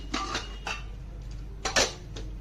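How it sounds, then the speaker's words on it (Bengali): Masoor dal lentils washed in a metal pot, giving a few scattered clinks and scraping rattles, close and moderately loud against a steady low hum. "এবার আমি ডালটাকে ভালো করে ধুয়ে নেব"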